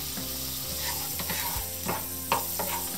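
Butter or ghee sizzles on a hot tawa while dosa is being prepared, a soft, continuous frying hiss with light scraping and a few small clicks, heard close and with no talk.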